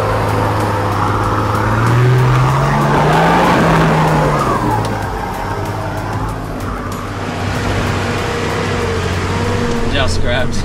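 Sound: 4WD in first gear climbing a big step

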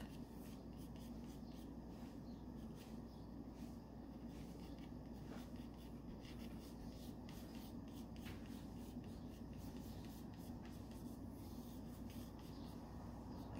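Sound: pencil drawing a leaf on paper

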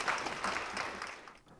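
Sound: audience applause welcoming minister on stage

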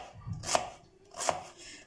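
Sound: chopping carrots quickly with a knife

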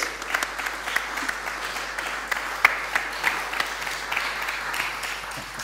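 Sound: audience applause as panel comes up to stage

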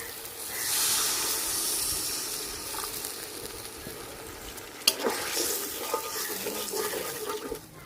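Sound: water added to frying tomato masala, sizzling

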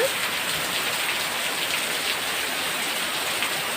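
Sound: heavy rain

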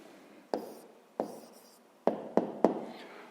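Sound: writing down the answer by hand

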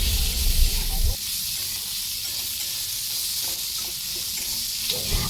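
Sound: potatoes and onions frying in oil

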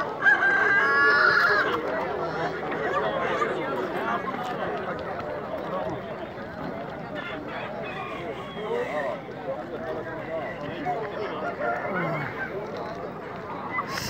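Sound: chickens and roosters crowing at a poultry market

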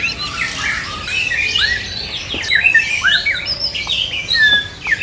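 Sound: songbird calling at a bird market stall

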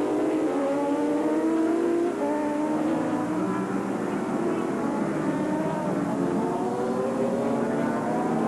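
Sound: race-kitted Suzuki GSX 750R superbike engine racing

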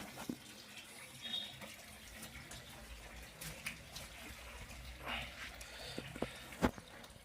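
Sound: natural spring water flowing into tank

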